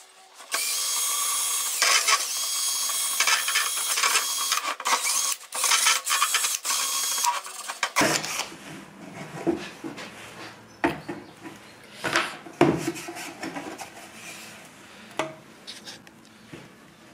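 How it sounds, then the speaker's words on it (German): A small sanding attachment on a cordless drill works a plastic hubcap from an Opel Zafira, a loud steady whirring drone for several seconds, then stop-start bursts of grinding and rattling contact noise. "Der kleine Schleifer funktioniert ganz gut."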